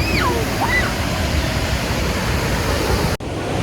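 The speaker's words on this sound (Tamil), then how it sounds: "அருவி அப்படியே ஆர்ப்பரித்து ஓடுதுன்னு சொல்லுவாங்கள்ல" Pykara waterfall in Ooty roaring as a steady, dense broadband rush of falling water, loud and continuous throughout, with a couple of faint birdlike chirps early on and a brief dropout near the end.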